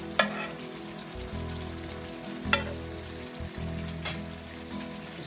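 Delicate fish pieces for a Pakistani fish curry (machli ka salan) sizzle in hot masala, a steady crackling fry with a few sharp clinks or taps, close and fairly quiet, with no one talking.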